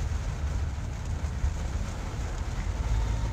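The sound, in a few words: rain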